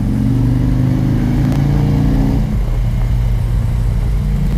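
A Harley-Davidson motorcycle with 36,000 miles and a Screaming Eagle Super Tuner idles and revs up close, a loud, deep, throbbing engine rumble that steadily holds its strength with a slight rise in pitch partway through.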